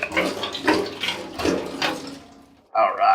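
Liquid sloshes and splashes inside a capped fuel tank being shaken during a restoration, in several uneven surges with a short pause near the end before a final burst.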